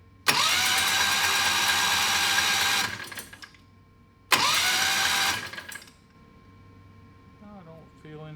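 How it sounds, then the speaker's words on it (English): A Predator 670 dragster engine with its spark plugs out cranks over twice without firing, each loud, rapid whirring burst lasting a few seconds before winding down and stopping. "I have the spark plugs out so it'll spin over a little bit faster."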